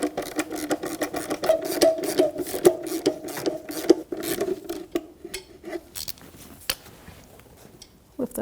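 Rapid ratcheting clicks of a socket wrench loosening a 13mm nut on a bottom bracket of a 1997-2006 Jeep Wrangler with a 2.4L four-cylinder engine, close and in quick bursts, then slower scattered clicks and handling noises.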